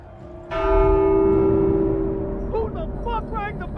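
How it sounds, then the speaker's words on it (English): A church bell in The Walking Dead: Saints & Sinners video game strikes once loudly and rings on with a long, shimmering decay over a low rumble, before voices start speaking over the fading tone. "Who the fuck rang the bell?"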